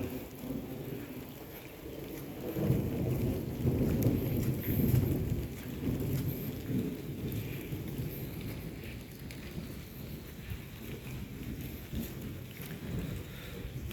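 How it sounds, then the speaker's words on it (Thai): Steady rain falls with low rumbles of thunder rolling through, a continuous wash of sound that swells and eases, with no voices. "ฝนตกแฉะจักหน่อยพี่น้อง"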